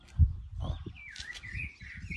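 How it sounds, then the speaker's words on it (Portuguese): A free sabiá thrush perched in a juazeiro tree gives a short, rising and falling warbled song over low rumbling background noise, starting after a brief thump. "E a sabiazinha aqui, ó, no juazeiro, solta, livre e desimpedida."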